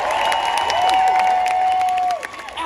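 An outdoor festival crowd at a front porch stage applauds and cheers for a singer, a loud continuous wash of clapping and shouts with a sustained whistle-like tone running through, cutting off near the end.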